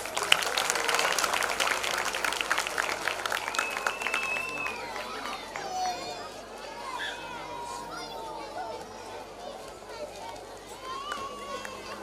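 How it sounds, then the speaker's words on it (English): Audience applause at a school annual day, with loud clapping at the start that thins out under children's chatter and an announcer's voice. "Let's give them a big round of applause"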